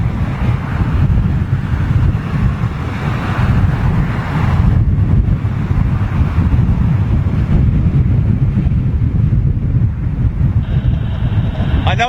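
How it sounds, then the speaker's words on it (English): Strong gusting crosswind at London Heathrow Airport buffets the microphone in a loud, continuous low rumble that swells and eases, with faint talk underneath. "we're certainly experiencing some gusting"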